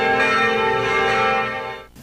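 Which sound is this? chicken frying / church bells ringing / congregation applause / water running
church bells ringing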